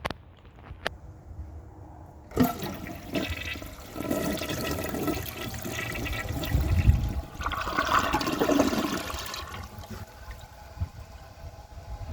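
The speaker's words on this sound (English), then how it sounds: "That flush is nothing short of depressing." A 1993 Kilgore Aladdin toilet flushes with a weak, underwhelming flush: a sharp click of the handle, then a moderate rushing and gurgling swirl of water that fades into a trickling refill.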